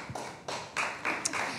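An audience at a political talk on the NHS claps in short bursts of applause, with scattered hand claps swelling and fading over a couple of seconds, fairly close and moderately loud.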